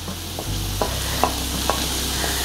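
Finely chopped onions and green chillies frying in a pan for a shark varai, with a low steady sizzle broken by a few light clicks of stirring.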